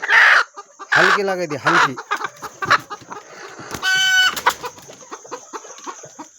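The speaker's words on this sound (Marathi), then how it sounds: "याला म्हणते ओरिजिनल गावरान खुड कोंबडी हिला म्हणायचं" Broody free-range desi country hen clucking in low, rough bursts close by, mixed with a few sharper calls, while a person talks over and between the sounds.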